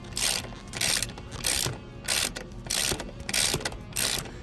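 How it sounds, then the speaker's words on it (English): A ratchet wrench clicks in steady bursts while torquing a bolt on a Harley motorcycle, about eight quick runs of sharp metallic ticks with short pauses between, close and clear. "it's the ratchet sound"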